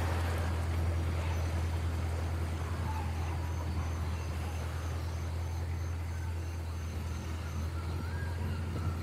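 Steady low engine drone of a boat on a river in Uncharted: The Lost Legacy, a constant rumble with broadband water and wind noise over it, continuous and even throughout.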